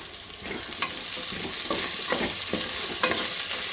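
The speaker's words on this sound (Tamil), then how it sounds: "வதக்குறேங்க" Small shallots sautéing with salt in a hot pan, a steady sizzle broken by repeated scrapes of a spoon stirring, close and fairly loud, no talking.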